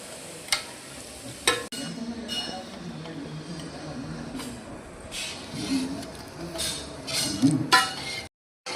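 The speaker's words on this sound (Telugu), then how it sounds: "నూనెని కొంచెంగా వేసుకుంటూ కలుపుకోవాలి." Cooled oil being mixed into chili powder for Telugu mango pickle, soft scraping and stirring strokes with occasional clinks of a spoon against a bowl, close, with a few louder knocks and a brief dropout near the end.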